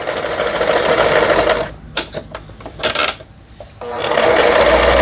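A repaired Yamata FY812 home sewing machine runs a zigzag stitch, a fast loud mechanical whirr that breaks into a few ticking clicks and pauses midway before resuming its steady hum.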